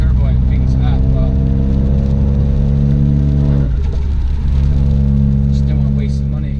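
A Vauxhall Astra VXR with an aftermarket exhaust idles with a loud, deep rumble close by, its note shifting briefly mid-way before settling back to a steady drone; a voice talks over it.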